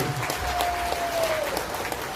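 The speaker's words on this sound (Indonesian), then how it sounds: "Tepuk tangan untuk Rokan dulu." A training seminar audience claps in a brief, moderately quiet round of applause, steady and even, with a sustained tone underneath.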